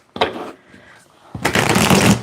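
A golden Art Nouveau tarot deck is shuffled close up, with a short riffle, a pause, then a longer, louder burst of card flutter, and a voice speaking briefly underneath.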